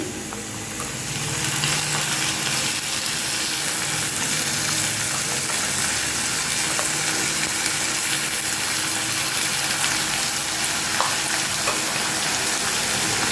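Onion and garlic paste fries in hot oil for an egg tadka, giving a loud, continuous close sizzle that holds evenly throughout with only tiny crackles and no talking.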